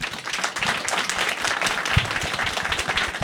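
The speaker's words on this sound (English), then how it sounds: "A big round of applause for them." A live audience gives a steady, dense round of applause for the panelists at the end of a public panel discussion, with many hands clapping together at a constant level throughout.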